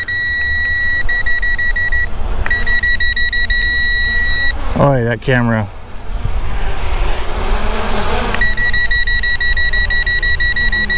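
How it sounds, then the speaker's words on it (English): A ZLRC SG906 GPS drone's remote controller emits repeated steady electronic beeps outdoors over wind noise, pausing briefly while someone talks, then resuming. "I hate that beeping."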